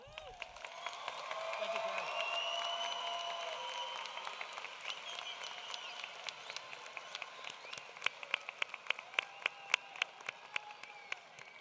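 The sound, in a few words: round of applause at a graduation ceremony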